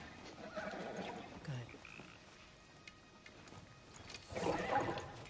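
A kelpie, a water horse in the video game God of War Ragnarök, gives a croaking, gurgling whinny in two bursts, the second louder and closer, with soft movement sounds between them.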